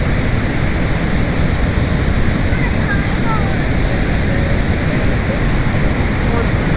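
Niagara Falls on the Canadian side gives off a constant, loud, broadband roar of falling water, steady and close throughout, with faint voices buried underneath.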